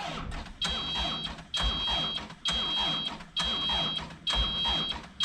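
A diesel landscaping truck, its glow plugs already run, cranks without catching at -2 degrees Fahrenheit in a repeated grinding starter rhythm, each loud, close attempt joined by a high warning chime.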